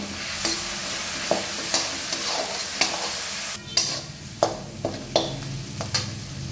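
Ground cumin and coriander sizzle in oil in a pan for a catla fish and potato curry, stirred with a spoon that knocks and scrapes in distinct, regular strokes over a steady close frying hiss.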